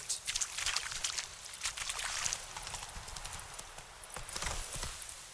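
Roach, the horse in The Witcher 3, trots with steady clip-clopping hooves, close and fairly loud, an even rhythm over a faint low rumble of ambience.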